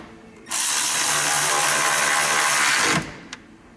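A power tool spins for about two and a half seconds in one steady, loud burst, driving bolts into a Ford 4.0 SOHC water pump, followed by a brief click.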